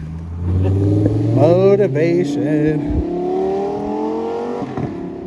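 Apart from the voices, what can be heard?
green Lamborghini revving and driving past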